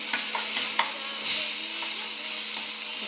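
Onion and a ground green chili and garlic paste fry together in a pan, giving a continuous close hiss with a few quick stirring clicks and no talking.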